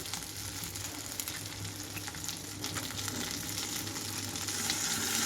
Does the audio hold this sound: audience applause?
no